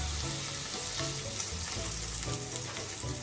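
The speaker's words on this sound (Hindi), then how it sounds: "ग्रिल पैन हमारा गरम हो चुका है हमने जो अपना सैंडविच असेंबल किया था उस पे जिस साइड पे हमने बटर लगाई है वो साइड हम यूँ नीचे इस ग्रिल पैन पे यू करके रख देंगे" A buttered pastrami sandwich sizzles on a hot grill pan, giving a steady, close, loud hiss with low crackling throughout and no talking.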